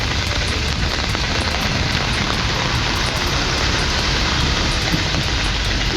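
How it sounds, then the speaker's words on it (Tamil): Heavy rain pours down in a steady, dense hiss during a thunderstorm around Thirumangalam near Madurai, loud and continuous throughout, with no distinct thunderclap standing out. "மதுரையில் திருமங்கலம் சுற்றுவட்டாரத்தில் 1 மணி நேரத்திற்கு மேலாக இடி மின்னலுடன் பெய்த மழை பூமியை குளிர்வித்தது"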